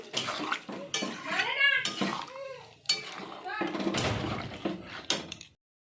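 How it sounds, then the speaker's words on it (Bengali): Chicken with turmeric, salt and water being stirred in a pot, with clanks and scrapes of a utensil against metal, close and clear, under a person talking. "এবার এটা নেড়ে দেবো একটু।"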